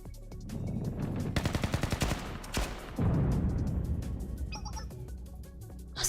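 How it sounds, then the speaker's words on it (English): Rapid gunfire and explosions in the video game Blue Archive, during a blast at a treaty signing ceremony around a cathedral: dense, loud bursts of shots with heavier booms rolling continuously throughout. "the sound of gunfire and explosions means fighting has broken out"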